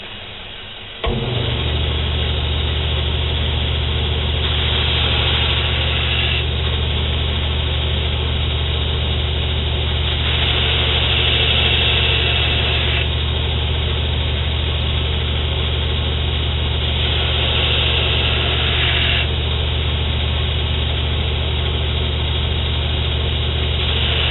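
A belt grinder hollow grinds a knife blade, its steady motor drone carrying a rasping grind that swells with each pass, close and unbroken for over twenty seconds.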